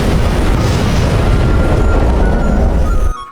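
A loud, rumbling blast roars continuously with heavy low-end noise before cutting off abruptly near the end.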